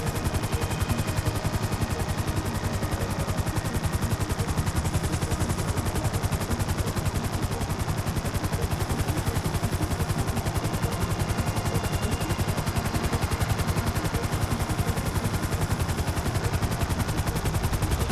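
Dense, continuous gunfire from a shootout in Grand Theft Auto V, rapid automatic bursts blurring into a steady crackling barrage that runs at even loudness for the whole stretch, with no talking over it.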